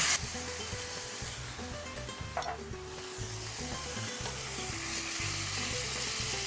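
Minced beef seasoned with black pepper, dried garlic and oregano sizzles steadily in a hot pan while being stirred, with continuous frying crackle and repeated scraping strokes close up.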